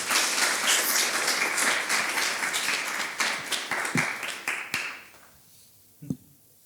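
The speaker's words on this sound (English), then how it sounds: "Round of applause for AI." A tech talk audience breaks into a round of applause, dense clapping that thins into scattered individual claps and fades out, with one last isolated clap near the end.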